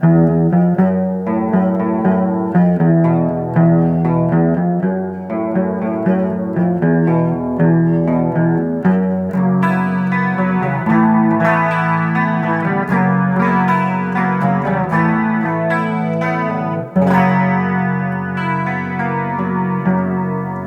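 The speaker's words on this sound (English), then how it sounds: "the Super Chorus. Used to fatten up your dirty signal, used to make your cleans sound chimey" An electric guitar plays continuous chords and melody through a Super Chorus pedal, a shimmering, thick and wavering sound, loud and steady with no talking.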